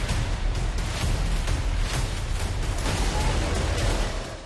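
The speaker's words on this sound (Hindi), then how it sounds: "हर तरफ धमाके की आवाज" Continuous heavy rumbling and crackling blasts from the Israel–Hamas war fill the scene, loud and dense throughout with no pauses.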